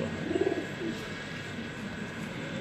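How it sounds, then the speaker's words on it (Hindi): Grey pigeons coo softly nearby in a short burst of low, rolling calls, followed by quiet background hum. "ये सलेटे कबूतर आ गए हैं"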